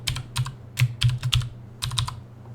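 Wi-Fi password being typed on a computer keyboard, heard as quick bursts of clicky keystrokes in short clusters with brief pauses, close and clear.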